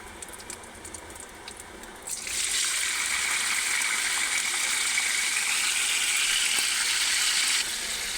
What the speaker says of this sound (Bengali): এবার আমি আলুগুলো ছেড়ে দেবো, ওই জন্য গ্যাসটাকে আস্তে করে দেবো, নাহলে গায়ে তেলটা ছিটবে।